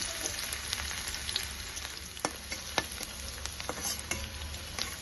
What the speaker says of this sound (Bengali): রসুনটা লাল লাল করে ভাজা হয়ে গেছে।